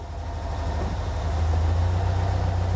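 A car engine with dual Weber 40 IDF carburetors idles steadily close by, a low, even rumble with a slight rhythmic pulse and no other sounds.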